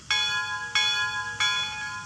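A small bell on an N scale model streamliner locomotive rings three times at a steady pace, each clear metallic strike ringing on until the next, with faint background hum.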